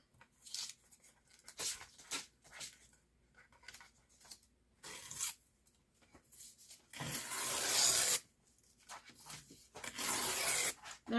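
Paper torn by hand for a junk journal, several short ripping bursts with pauses between them, including one longer tear, close and fairly quiet.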